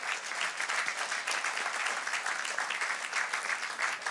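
A church congregation at an online Sunday worship service applauds after a scripture reading, with steady, dense clapping sustained evenly throughout and no voices rising above it.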